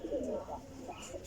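Sialkoti pigeons coo softly in short, low, rolling calls, a few overlapping phrases over a faint background with some distant voice.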